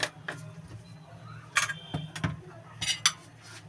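Grated momo filling of ginger and salted vegetables being mixed in a bowl, with several sharp clinks and scrapes of utensil against the bowl at irregular intervals over a low steady hum.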